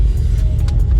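A Mercedes-Benz E63 AMG engine roars under acceleration, a loud, steady low rumble that stays strong and continuous from start to end.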